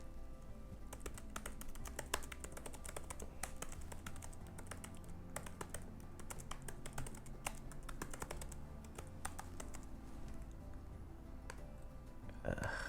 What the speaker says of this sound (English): I'm typing really bad today.